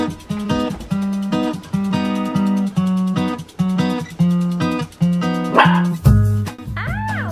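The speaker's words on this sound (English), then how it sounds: "These are my wiener dog puppies, Stella and Harper." Wiener dog puppies bark in a steady, rhythmic string of sharp yips close by, roughly two barks per second, ending with a few higher squeaky yelps.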